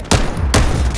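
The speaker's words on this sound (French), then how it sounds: "c'est un fusil d'assaut ou fusil de précision" In a video game, a hybrid assault-sniper rifle fires two sharp, loud shots about half a second apart, each cracking hard and trailing off in a short ringing tail.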